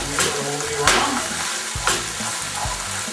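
Crab croquette mixture with salmon seasoning is stirred around a hot pan for Portuguese-style croquettes, giving a steady close sizzle broken by a few scraping strokes of the spoon.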